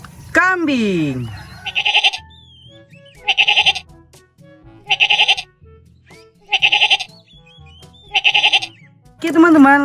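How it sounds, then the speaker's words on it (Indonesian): A toy goat gives repeated wavering bleats in regular bursts, loud and close, with synthetic chirps and tones between them. "Kambing."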